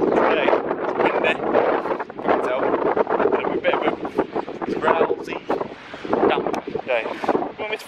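Wind gusting outdoors on a blustery day in the UK, rumbling steadily against the microphone with broad buffeting noise, while a person talks over it.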